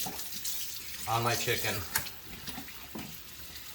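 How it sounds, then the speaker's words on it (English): Cold tap water runs steadily over raw chicken pieces in a kitchen sink, a continuous close splashing hiss with a voice talking briefly over it. "we're just gonna run cold water"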